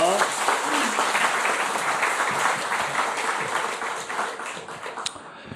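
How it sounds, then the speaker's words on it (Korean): Congregation at a Sunday worship service at Onnuri Church Osaka applauding to welcome the pastor, a steady wash of clapping that fades toward the end, with voices mixed in. "우리 이기호 목사님 큰 박수로 맞이해 주시기 바라겠습니다"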